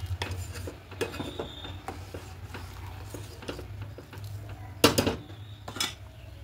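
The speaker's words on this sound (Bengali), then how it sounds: "দিয়ে এটা খুব ভালো করে নেড়ে দেবো।" Metal spoon scraping and clinking against a pot while payesh of gobindobhog rice, cardamom and cashew paste is stirred, with repeated soft scrapes and one louder clatter near the end.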